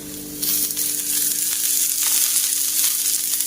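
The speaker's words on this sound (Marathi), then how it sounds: "तेल घालून मी आता हा कांदा लालसर होईपर्यंत परतवून घेणार आहे" Small onion frying in oil until reddish, for a red-masala drumstick curry: a steady bright sizzle that swells louder after the first half second and holds close and continuous throughout, with no voices.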